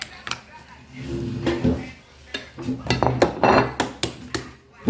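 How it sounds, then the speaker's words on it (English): Hard-boiled eggs, cooled in cold water, have their shells peeled away by hand in a kitchen, with close cracking and crinkling bursts alongside clinks of dishes and utensils. "I'm just going to start peeling the eggs"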